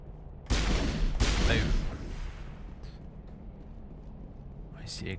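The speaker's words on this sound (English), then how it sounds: "See explodey thing? I shoot explodey thing." Gunfire hits an explosive object in the video game Mass Effect, giving two loud, close, booming bursts in quick succession that fade into a low rumble and hiss.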